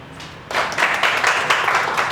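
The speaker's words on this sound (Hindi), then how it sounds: "ताली बजाइए" A physics class claps after the teacher asks, a burst of hand clapping starting abruptly after a quiet moment and continuing unevenly, moderately loud and close in the room.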